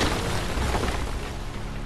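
A self-destruct explosion in the video game Final Fantasy VII Remake fills the short stretch with a dense, rumbling boom. The roar is broad and sustained throughout, with no voices heard over it.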